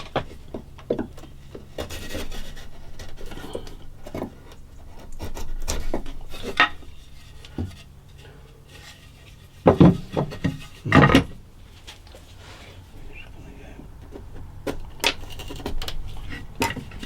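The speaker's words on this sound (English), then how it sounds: "we'll find a chisel." A chisel pares wood to widen the neck pocket of a homemade guitar, giving intermittent scraping and rasping strokes at close range, with two louder, sharper bursts midway and quieter handling noises between.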